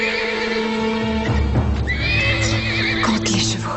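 Horses neigh and whinny loudly and close by, several calls overlapping, with hoof clatter and movement beneath, in a medieval Robin Hood adventure setting.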